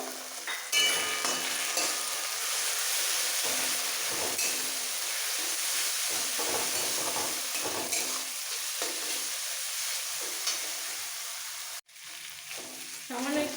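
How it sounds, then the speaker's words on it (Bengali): Green chili paste, with red chili powder already in, sizzles and fries loudly in a pan while being stirred for a Bengali fish-head and cabbage curry; a steady close hiss runs throughout with occasional scraping, and a brief dip near the end. "ঝাল ঝাল ছটা কাঁচা লঙ্কা বেটে নিয়েছি সবটা দিয়ে দিচ্ছি দিয়ে এবার ভালো করে কষাবো"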